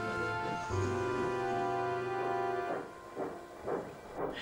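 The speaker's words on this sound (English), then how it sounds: "Oliver left with Duck's goods train" A video game steam engine, in Trainz, sounds a long sustained whistle, then chuffs in rhythmic puffs while pulling a goods train, close and moderately loud.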